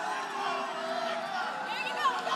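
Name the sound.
crowd reacting at a fight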